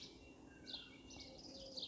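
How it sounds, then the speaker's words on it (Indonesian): Birds chirping on a quiet terrace behind a house in Switzerland in May, with several short, faint high calls scattered across a still, hushed background. "Bahkan suara burung itu saya mendengar dengan jelas ya."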